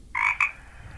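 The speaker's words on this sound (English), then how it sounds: "Bullfrogs." A single bullfrog croak, a short two-part resonant call heard close and alone, with faint background noise after it.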